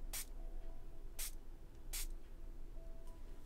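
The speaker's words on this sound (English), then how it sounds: "I think I'm going to use my spray bottle" Three short hissing spritzes from a spray bottle, evenly spaced, close and fairly quiet against faint background noise.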